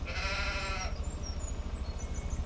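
A sheep on a farm gives a single loud, close bleat lasting just under a second, followed by quieter outdoor ambience with faint chirps.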